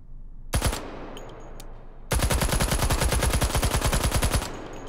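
Rapid automatic fire from a UMP submachine gun in the VR game Hot Dogs, Horseshoes & Hand Grenades: a short opening burst, a pause, then a long, loud, evenly spaced volley of shots lasting over two seconds.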